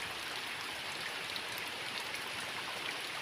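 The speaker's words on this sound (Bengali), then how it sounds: "ভালোই বৃষ্টি হচ্ছে।" Steady rain falls throughout, a dense, even hiss of drops with no voices and no break in the sound.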